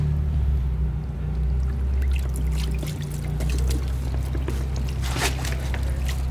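Water poured from a bottle onto a car wheel and brake disc during cleaning, a steady splashing trickle running close and continuous throughout.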